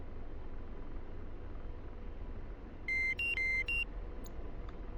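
Cockpit warning tones from an AH-64D Apache helicopter simulator: a short run of about four clear electronic beeps alternating in pitch, sounding over a constant engine and rotor hum, followed by a couple of faint blips.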